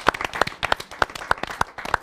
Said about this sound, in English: So big round of applause for our top